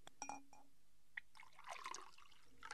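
Rum poured into a glass at an old seaside inn, heard as a short liquid splash and trickle with faint glassy clinks, fairly quiet and alone.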